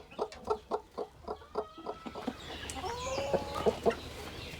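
A hen on her nest clucking in a steady series of close, evenly spaced clucks, then shifting into softer, drawn-out murmuring calls.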